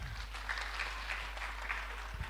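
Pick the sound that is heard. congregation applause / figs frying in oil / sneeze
congregation applause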